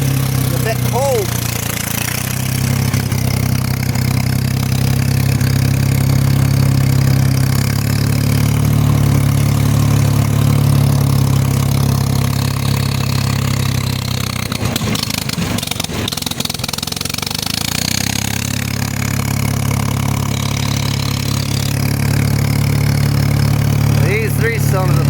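A fussy three-cylinder engine, cold and recently flooded at the carburettor, runs on a little choke after starting, with a loud, steady idle that wavers briefly partway through before settling again.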